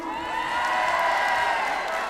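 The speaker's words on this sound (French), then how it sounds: "tous pour moi, un maximum d'encouragement et pour vous applaudir également" A crowd at a Japan Expo stage challenge cheers and applauds in a steady, dense wash of noise, with scattered whoops rising above it for the full two seconds.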